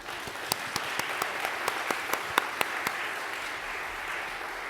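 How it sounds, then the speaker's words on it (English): A small audience claps at a celebration event, a thin scattering of individual hand claps with a few sharper distinct slaps standing out over a soft steady patter, fairly close. "Applause for all of you."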